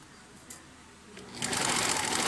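A sewing machine stitching a jean-style sleeve onto a jacket, quiet at first with a couple of light taps, then running loudly in a steady rapid whir for the final second.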